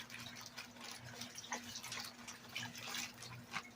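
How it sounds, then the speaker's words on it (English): Water sloshing and dripping as a hand rubs the corners of a clay paydirt bag to rinse it, a soft, continuous wet churning with small splashes close by, over a steady low hum. "Get some water in the bag and put your hand in the bag and start rubbing corners and stuff like that."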